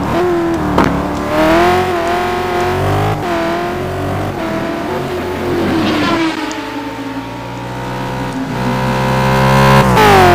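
A Porsche GT race car engine at Suzuka holds a loud, continuous note that rises and falls through small throttle lifts and gear changes, climbing again at the end.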